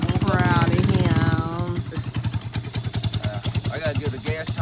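A motorcycle engine chugs in rapid, uneven pulses on a night ride, close and fairly loud, with people talking over it at the start.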